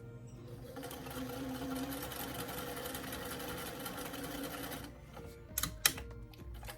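A sewing machine runs in one steady continuous burst stitching a seam on a fabric doll dress form, then stops, followed by a few light clicks and handling sounds.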